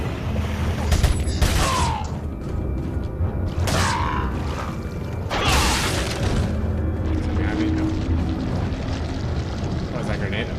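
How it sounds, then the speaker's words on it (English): Booming grenade blasts with whooshing bursts in Resident Evil 4, a few loud explosions spaced over the span against a constant rumbling game background. "What was that grenade up there?"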